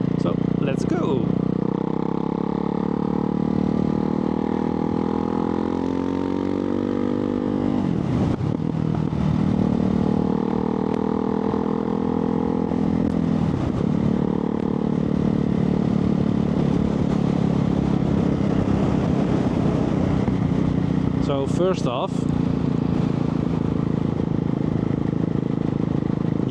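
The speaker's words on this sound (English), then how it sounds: "So this is a single cylinder engine" A Ducati Hypermotard 698 Mono single-cylinder motorcycle engine runs steadily while riding, its droning note rising and falling, with someone talking over it throughout.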